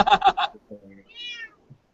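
A house cat meows softly nearby in a short drawn-out call, preceded by a brief burst of a person talking in the room.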